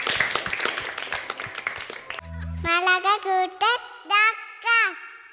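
A group of children clapping for two young classmates, a burst of quick, dense hand claps for about two seconds, followed by children's voices singing or chanting.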